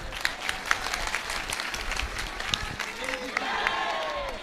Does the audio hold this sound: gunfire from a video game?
no